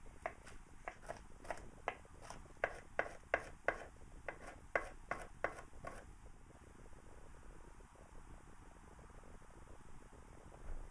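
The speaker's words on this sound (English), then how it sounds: "You wanna cut these pretty finely." A knife chops vegetables finely on a cutting board in a quick run of sharp, close taps for several seconds, then the cutting stops and only quiet room noise remains.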